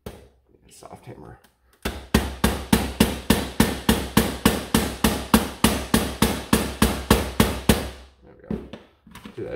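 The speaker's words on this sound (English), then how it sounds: "Soft hammer." A soft hammer taps a part on a Nerf Mega Magnus blaster in a quick, even run of about two dozen close knocks lasting roughly six seconds. Quiet handling sounds come before and after.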